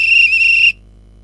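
A single shrill whistle blast, steady and loud, is held for under a second and cut off abruptly, sounding a Morse code dot in a children's online scout lesson.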